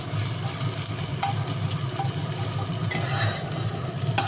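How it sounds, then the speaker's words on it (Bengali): Onions frying in a pan at home, a steady close sizzle with faint stirring scrapes and a few light clinks, continuous and unbroken. "আর এবার পেঁয়াজটাকেও ভালো করে ভেজে নেব"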